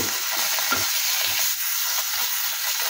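Food frying in a pan over high heat, a continuous crackling sizzle broken by soft scraping stirs every second or so, close and fairly loud with no talking.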